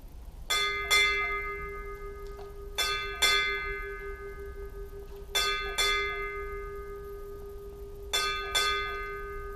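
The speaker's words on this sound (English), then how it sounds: "Strike 8 bells." A ship's bell is struck eight times at a submarine decommissioning ceremony, ringing in paired strokes, four pairs spaced evenly with long ringing decay between them, clear and close with no talking.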